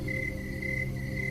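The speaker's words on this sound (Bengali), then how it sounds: "চারিদিক থেকে ভেসে আসছে ঝিঝি পোকার ডাক" Crickets chirp at night in a rural field setting, a steady, unbroken high trill lasting the whole moment over a low, even background.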